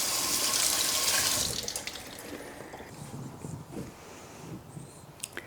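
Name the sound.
water running from kitchen sink tap, rinsing berries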